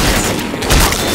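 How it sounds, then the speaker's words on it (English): Gunfire from the video game Left 4 Dead as a headshot is landed: a short, loud burst of shots with a booming edge, heard alone and close. "Nice headshot, Lewis."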